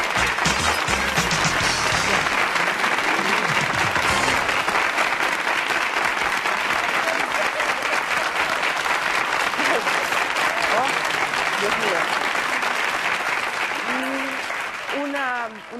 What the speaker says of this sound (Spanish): hay que darle un fuerte aplauso. Y al equipo también. También un fuerte aplauso.